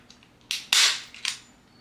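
Arrow manual stapler firing staples while reupholstering dining room chairs, three sharp snapping bursts with one louder central crack, close and crisp against a quiet room.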